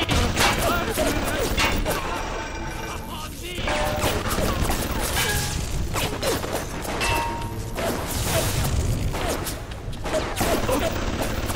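Turret gunfire bursts in a BioShock fight, with rapid clattering shots, mechanical whirring and impacts layered densely throughout, loud and continuous, with a voice speaking briefly underneath.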